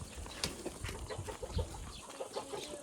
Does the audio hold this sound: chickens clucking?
yes